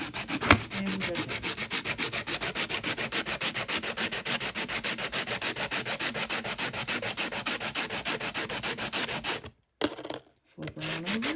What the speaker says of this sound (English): Alright, so this is my sandpaper, and we're good.